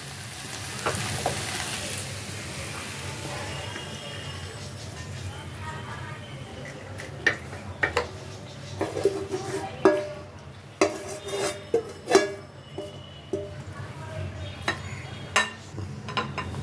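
Lentil dumplings (bori) stirred in an oiled pan, a steady sizzle and frying hiss with repeated scrapes and clinks of a spatula against the metal, growing more frequent toward the end, while someone talks.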